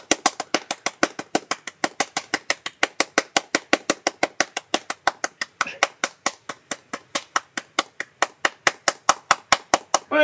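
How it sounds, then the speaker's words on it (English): Hands clap rapidly and rhythmically to light up Govee Christmas string lights, a long run of sharp, evenly spaced close claps, dozens in quick succession. "you have to clap to light the entire lights up"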